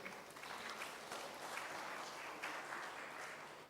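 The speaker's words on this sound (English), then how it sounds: "please once again give a big applause to our second speaker" An audience applauding the second speaker at an international science and technology seminar, a steady, faint wash of clapping heard from a distance that holds evenly throughout.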